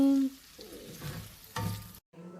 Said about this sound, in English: Stir fry everything together until it's all combined and smelling amazing